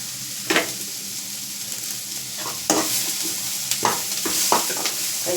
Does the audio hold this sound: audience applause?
no